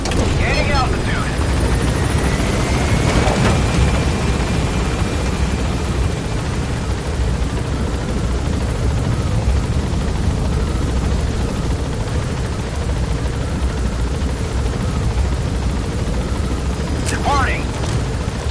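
Helicopter climbing in Metal Gear Solid V, a loud steady rotor and engine roar that fills the whole stretch, with a few brief sharp sounds over it.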